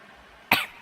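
One short, sharp cough, close and clear, over a faint room background.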